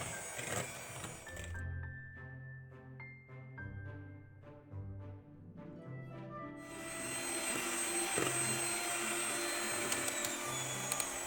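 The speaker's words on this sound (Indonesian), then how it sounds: "Kemudian mixer dengan kecepatan tinggi sampai putih berjejak." Electric mixer whirring on high speed through brownie batter of sugar, vanilla and SP emulsifier for steamed pandan brownies, a steady motor drone with a brief change in pitch partway through and no talk.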